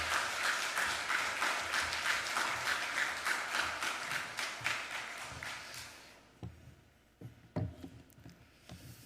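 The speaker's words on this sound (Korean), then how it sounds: "우리 박수로 환영할까요?" A church congregation applauds to welcome the pastor to the pulpit, a dense, steady wash of clapping that thins out after about six seconds into a few scattered, distinct claps.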